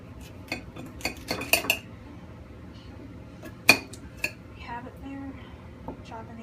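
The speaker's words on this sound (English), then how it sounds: "the knife just chopped it up" Sharp clicks and taps of a knife chopping potatoes on a cutting board, irregular and close, with a few louder knocks among quieter chops.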